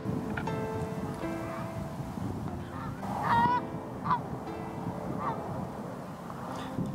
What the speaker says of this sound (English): Look at these poor geese.